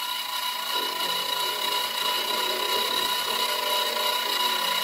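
A Klutch mini-mill grinds into a Spectrum frame, giving a loud continuous rasping whine with steady tonal overtones that runs unbroken throughout, close up with no voices.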